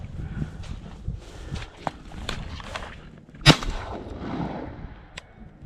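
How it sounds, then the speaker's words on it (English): A shotgun fires a single sharp blast of Winchester shells at snipe in the field, a loud close report standing out above faint rustling, footsteps and outdoor background noise. "Shooting some Winchester ammo today"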